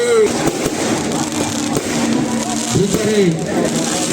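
Fireworks burst and crackle at a Ravan burning festival by a pond, with a few sharp bangs in a constant noisy wash. Loud talking runs over them throughout.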